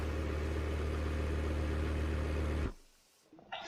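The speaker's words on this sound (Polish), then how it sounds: "Silnik się powoli zalewa." In a driving video game, a car engine slowly flooding with water hums as a steady, low drone, then cuts out abruptly into near silence, followed by faint scattered noise.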